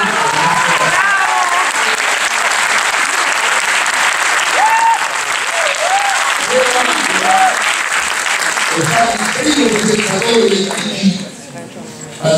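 Huge, loud applause from a large audience at a televised tribute event, a dense roar of clapping sustained for several seconds with voices and music mixed in, dropping briefly near the end.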